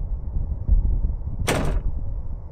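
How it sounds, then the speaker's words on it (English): A locked door rattles once in the Ao Oni horror video game, a short burst of bright clatter lasting a fraction of a second over a low steady background hum. "The door is locked."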